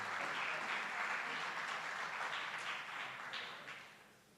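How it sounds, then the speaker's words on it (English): Quiet applause from attendees at a school board of education meeting, steady clapping that gradually thins and fades toward the end, with a few isolated claps standing out. "You can clap."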